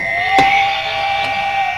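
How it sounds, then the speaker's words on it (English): A steady electronic buzzer tone holds for nearly two seconds, loud and alone, with two short clicks or taps sounding over it. "hit the buzzer and explain why"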